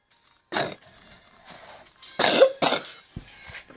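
Several harsh coughs from one person, close and loud, coming in a short irregular burst with brief pauses between them.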